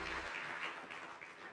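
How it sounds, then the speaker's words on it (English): A church congregation gives a short burst of praise clapping, a dense wash of many hands that fades slightly toward the end. "Let's give the Lord a praise clap"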